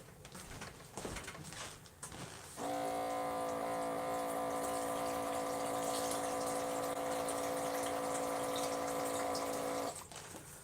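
Distilled water runs from a dispenser tap in a home kitchen, a steady hum and gushing flow that starts abruptly after a few seconds of quiet, holds evenly, then stops sharply near the end.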